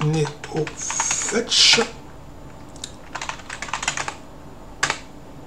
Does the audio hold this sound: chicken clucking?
no